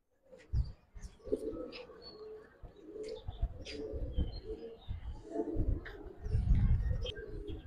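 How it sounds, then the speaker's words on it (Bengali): A pair of teddy high flyer pigeons coo in low, soft, repeated calls at close range, with faint chirps and small rustling in the background. "এই জোড়া টেডি হাই ফ্লায়ার কবুতর"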